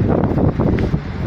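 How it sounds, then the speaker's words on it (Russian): Strong Baltic Sea wind at a beach roars steadily across the microphone, a broad continuous rush with no voices. "Ветер сильный."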